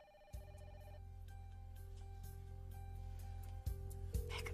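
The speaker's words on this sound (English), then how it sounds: "Lucy, better get the phone." A telephone rings insistently in a room, its electronic tone repeating steadily and fairly loud throughout, with a couple of soft knocks near the end and no one speaking.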